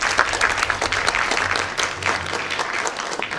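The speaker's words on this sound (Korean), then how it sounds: "큰 박수로 맞아주시기" An audience at a civil defense security lecture in Bucheon applauds steadily and alone, a dense, continuous wash of clapping welcoming the speaker.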